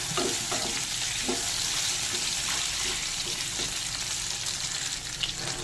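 Potato pieces frying in oil while being stirred, a continuous close sizzle with soft scraping and clinks of the spoon against the pan scattered through it, no voices.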